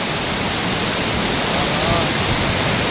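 Siri Mane waterfall roaring as a dense, unbroken wash of falling water, loud and close, steady throughout with no pauses.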